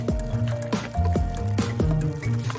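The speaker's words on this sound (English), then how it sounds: "Remove the parts from the pen, then fill the casing with glue." Glue is squeezed into an emptied plastic pen casing for a DIY school hack, with wet squelching and dripping sounds that recur in a few uneven bursts close up, and no talk.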